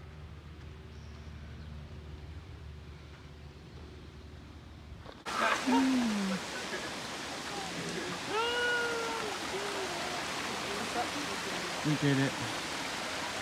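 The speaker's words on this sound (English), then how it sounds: "I hear water already." Steady rushing water from a stream fills the background after a sudden jump in level, with people talking briefly over it.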